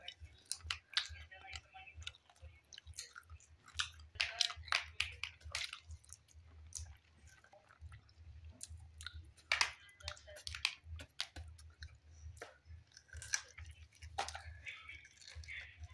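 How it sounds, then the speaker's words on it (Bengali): Close, wet chewing of meat during a night-time meal, with soft clicks, squishes and bites repeating in an irregular rhythm over a low steady hum, with no speech. "এই হচ্ছে মাংস খাওয়া"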